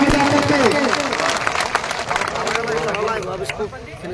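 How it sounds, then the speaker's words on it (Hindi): A crowd at an outdoor protest gathering claps amid cheering and babble, with a voice speaking over a loudspeaker above the scattered applause. "तालियां बजा करके।"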